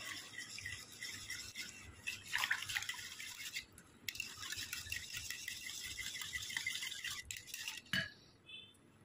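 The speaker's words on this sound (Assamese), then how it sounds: "দি এখিনি এইদৰে মিলাই ল'ব লাগিব।" Powdered milk being stirred into warm milk with a spoon, scraping and clinking against the bowl in steady bursts with a brief pause, close and fairly quiet.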